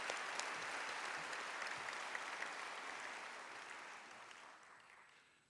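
An audience at a Cal Poly fall conference applauds the awardees, a dense, sustained round of clapping that slowly fades out over several seconds.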